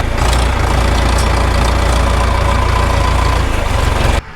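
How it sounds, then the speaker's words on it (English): A farm tractor laying plastic mulch on raised vegetable beds runs with a loud, steady engine rumble close by, cutting off abruptly near the end. "I hop back on the tractor."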